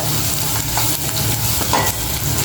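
Onions fry in oil in a pan for a Telugu kakarakaya pulusu, a bitter gourd stew, giving a close, steady sizzle with light stirring scrapes.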